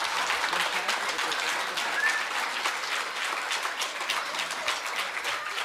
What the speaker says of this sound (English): A big round of applause and a standing ovation to Dr.